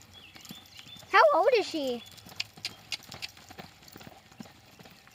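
A miniature pony mare ridden in a round pen gives soft, irregular clip-clop hoofbeats on the ground, with a loud whinny early on and people talking nearby.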